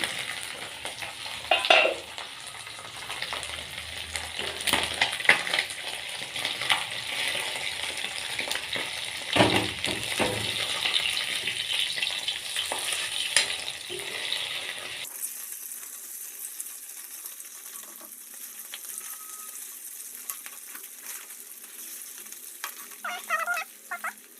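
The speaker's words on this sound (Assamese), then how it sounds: "এইখিনি মাছখিনি অলপমান উল্টাই দিওঁ।" Pieces of katla fish frying in a pan at home and being flipped, a loud bright sizzle with scraping and clattering from the turning, then the hiss drops to a thinner, quieter crackle.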